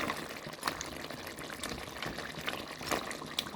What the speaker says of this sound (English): I'm going to just add some more of my beef stock to the pot